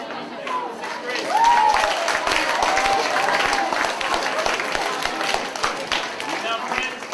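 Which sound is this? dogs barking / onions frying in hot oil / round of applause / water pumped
round of applause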